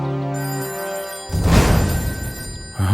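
A telephone rings in a Telugu movie scene: a sustained electronic ring tone, then a burst of louder noisy sound before the ringing briefly resumes at the end, fairly close and without talk.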